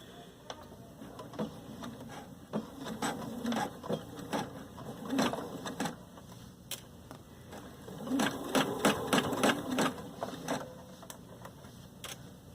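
A sewing machine stitches a sleeve cap into a round armhole, running in steady rapid bursts with brief pauses and rhythmic ticking from the needle, close and clear with no talking.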